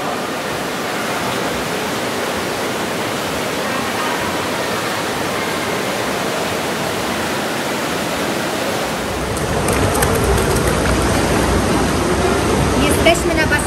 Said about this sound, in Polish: Właśnie jesteśmy w basenie dla dzieci, do którego nawet ja weszłam, bo jest bardzo ciepła woda.